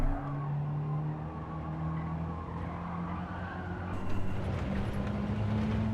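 A race car sliding in Gran Turismo 7, with a steady engine drone and tyre squeal holding through the slide and swelling slightly toward the end, no voices.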